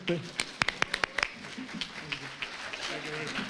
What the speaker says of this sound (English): Another round of applause given.